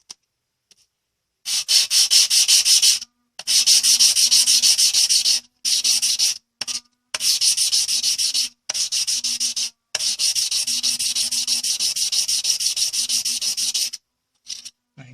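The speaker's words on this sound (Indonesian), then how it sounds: "Kita celupkan dulu ke air agar basah dan kita mulai mengamplas." Wet 600-grit sandpaper rubs against a stainless steel name necklace in rapid, close scratchy bursts, with strokes of varying length separated by short silent pauses.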